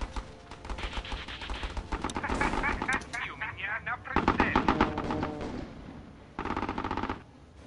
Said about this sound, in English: Gun turret deployed.